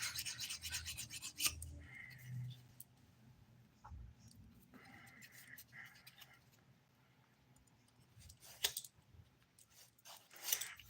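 A fingernail being shaped with the 180 grit side of a nail file: short, faint rasping strokes in intermittent bursts, close to the microphone with quiet pauses between.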